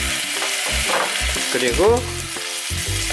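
Brewed soy sauce poured around the edge of a hot frying pan with pork sizzles loudly and continuously, crackling with a rhythmic pulsing background and a brief swell partway through; almost no talking.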